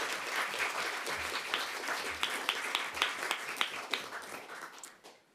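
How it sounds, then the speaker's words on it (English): Audience at a high school debate final clapping for both teams, a full round of applause that thins into scattered individual claps before fading out. "let's give both the teams a big round of applause"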